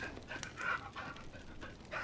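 A dog in the video game Pentiment pants softly in quick, rhythmic breaths, faint and close, with no talking over it.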